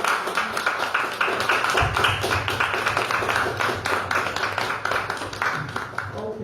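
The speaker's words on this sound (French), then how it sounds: "Please, you guys put your hands together for my husband." Church congregation applauding together for a pastor's husband as he walks in, a steady dense patter of many hands clapping at close range for several seconds with no talk over it.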